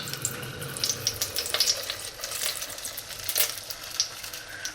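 Liquid hits hot oil in a pan for a stir-fry with a sizzling, crackling hiss, bright spits and pops rising and falling over several seconds, fairly close and moderately loud.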